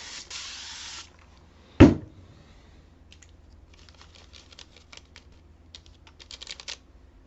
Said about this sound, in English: And you also want to spray it a little bit as well.